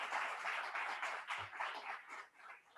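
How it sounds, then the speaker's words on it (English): An audience at a technology conference applauds a speaker leaving the stage, a broad dense sound of many hands clapping, moderately loud at first and slowly thinning out, with no voices over it. "wonderful round of applause"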